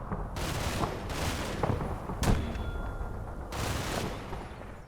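Machine gun fire in the World War II strategy game Combat Mission: Battle for Normandy, rattling bursts in several separate volleys with a sharper crack midway, moderately distant and with no talk over it.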